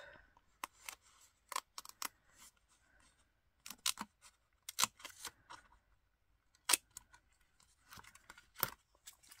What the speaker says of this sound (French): j'ai découpé le petit feuillage, tout petit